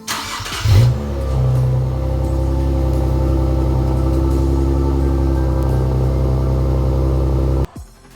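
Infiniti Q50 with an aftermarket exhaust gives a quick loud rev near the start, then settles into a deep, steady, close-up idle drone that holds for several seconds before cutting off abruptly.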